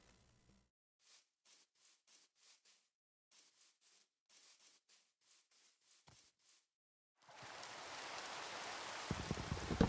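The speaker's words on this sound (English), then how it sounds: "Typical, it starts raining when I get here." Video game rain starting suddenly after a stretch of soft rhythmic footsteps, then a steady dense hiss of rainfall that continues to the end, quiet overall and without talking.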